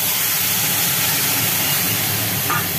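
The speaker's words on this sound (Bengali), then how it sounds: "ওই ভাজা মশলাগুলোর ওপরে ঢেলে দেওয়া হলো লাউ শাকটাকে" A steady, loud, close hiss of sizzling oil as bottle gourd greens are poured onto dry red chillies, bay leaves and five-spice seeds frying in a hot pan. The sizzle holds without a break.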